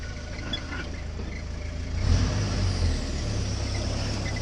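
A 1953 Willys CJ3B Jeep with a freshly replaced clutch drives along, its engine droning steadily close by with a low rumble that swells briefly around the middle, no voices present.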